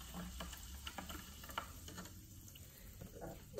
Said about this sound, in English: let's stir it a little so we'll get a better result